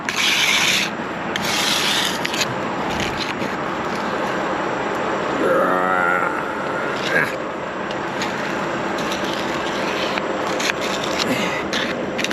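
Scraping and rubbing of hot material being cleared from road-works equipment on a night shift, a steady gritty rasp running throughout with brief metallic squeals, plus a short burst near the middle.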